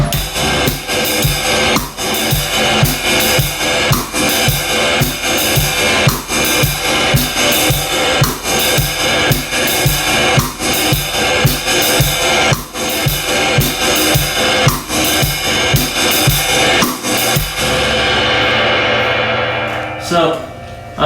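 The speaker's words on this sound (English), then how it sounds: "is playing the cross stick just on beat 4. So it would sound like this." A drum set plays a steady driving groove with a cross stick click on beat four, loud and close with dense cymbals and kick for about seventeen seconds before the kit rings out and fades.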